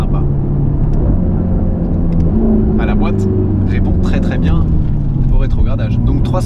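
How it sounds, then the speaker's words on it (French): A 730 hp Mercedes-AMG GT Black Series on a small country road, its engine note dropping and rising as the gearbox downshifts. Someone talks over the steady, close engine drone throughout. "La boîte répond très bien au rétrogradage."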